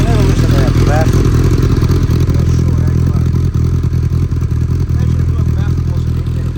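A 2012 Kawasaki Ninja ZX-10R engine with an exhaust baffle fitted runs loud and close, a continuous throaty exhaust drone with slight revving, while a voice talks over it.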